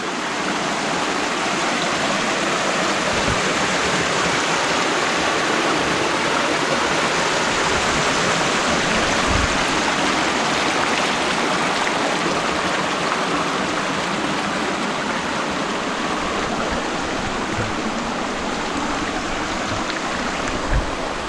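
Irinchayam waterfall pours over and between big rocks, producing a continuous, loud, even rushing roar close by, steady from start to finish, with no voices.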